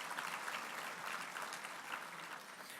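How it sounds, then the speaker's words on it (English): Guests at a chamber of commerce annual dinner give a steady round of applause that tapers slightly toward the end, heard from a moderate distance in the hall. "Just give a round of applause to all those that put forth the effort."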